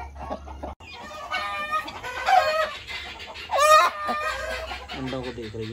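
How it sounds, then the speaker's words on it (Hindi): A broody hen clucks and makes drawn-out, throaty calls close by, with soft background noise and other fowl sounds. "ये मुर्गी हमारी है कुड़क पे"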